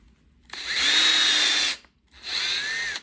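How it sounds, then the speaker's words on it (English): A power drill whirs close by in two bursts, a long high-pitched spin that rises in pitch, a short pause, then a second shorter run. "And you can just drill through make a million of these things."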